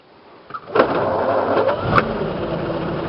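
A 1927 Packard 443 Club Coupe engine cranks briefly and catches, then settles into a steady, loud idle up close, still cold.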